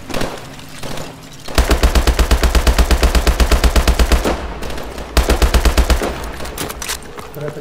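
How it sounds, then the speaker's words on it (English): Loud automatic weapon fire in the Call of Duty Advanced Warfare campaign mission Crash comes in two long, evenly paced bursts of rapid shots, close and punchy, separated by a short gap. "On your shot, Mitchell."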